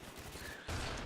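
Rapid gunfire from the video game Black Ops 1 rattles in a dense, continuous fusillade that grows louder partway through, with no speech over it.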